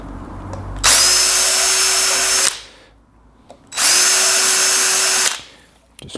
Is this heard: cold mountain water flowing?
no